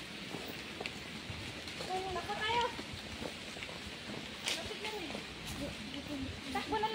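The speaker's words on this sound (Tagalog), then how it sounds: "Mabutan na kami ng ulan." Rain falls on a forested mountain trail on an island, a steady hiss under hikers chatting nearby.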